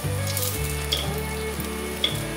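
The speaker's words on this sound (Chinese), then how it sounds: "锅内放入少许油，把姜片放进来煸香" Ginger slices fry in a little oil in a pan, giving a steady close sizzle with faint stirring clicks and no talk.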